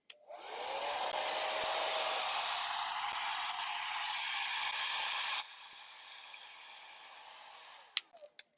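A hair dryer blows on a freshly made craft project with a loud, steady airy roar. It switches to a lower setting partway through and then shuts off, with a few small clicks at the end.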